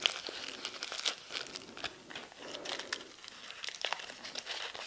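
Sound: peeling a sticker off its backing paper

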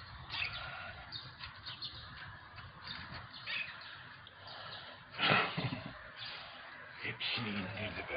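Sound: crows calling

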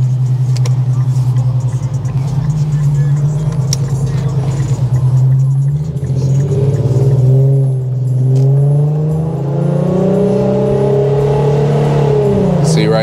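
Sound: Infiniti Q50S with jerky shifting transmission driving

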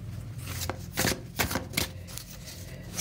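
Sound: shuffling oracle cards

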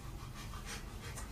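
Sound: dog panting

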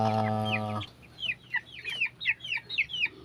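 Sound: baby chicks chirping

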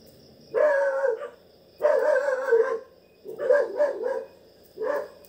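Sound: dogs barking outside

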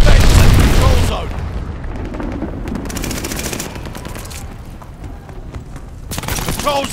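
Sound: glide bombing explosions in Call of Duty: Vanguard video game

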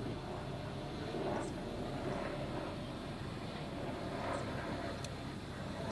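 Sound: DJI Inspire 3 drone flying in the air

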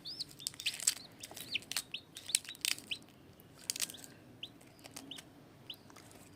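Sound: newly hatched chicks chirping

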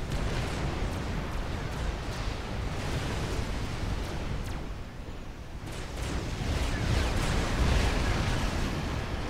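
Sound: Ravager artillery firing in video game Forged Alliance Forever

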